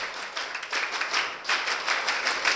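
Children clap their hands together in a counting game, a dense run of fairly quick, moderately loud claps spread across the whole stretch, with no talking.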